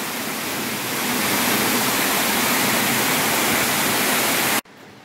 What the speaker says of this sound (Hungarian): Itt egy vízesés a barlangban.